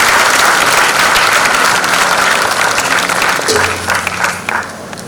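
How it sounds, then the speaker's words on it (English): Audience at an AI Fusion inaugural session in Kakinada applauds loudly as a guest is called to the dais, heavy full clapping that gradually tapers off toward the end while a low hum and murmuring continue. "Can we have Shri Indrajit, CEO, President, ITAAP on the dais with a huge round of applause, ladies and gentlemen"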